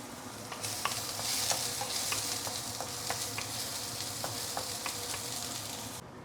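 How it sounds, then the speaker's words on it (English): Shallots sizzling in hot oil in a non-stick wok, a steady bright crackle running throughout with scattered pops and the occasional scrape of a spatula, close and fairly loud. "once the oil is heated up, we can put in the shallot."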